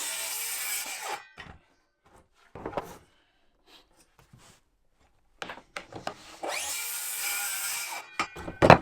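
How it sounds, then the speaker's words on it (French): A cordless saw running on rails cuts through a wooden shelf in bursts. There are short rasping passes, pauses, then a longer loud cut near the end, with workshop handling noises between. "Elle est quand même assez magique cette scie."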